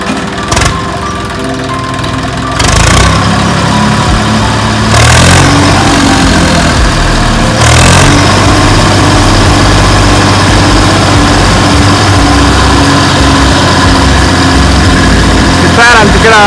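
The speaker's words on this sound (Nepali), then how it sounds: "ट्र्याक्टर आइसकेको छ" A tractor engine, talked about as misfiring, runs steadily at idle throughout with a low, rumbling drone and a few louder surges, while people talk nearby.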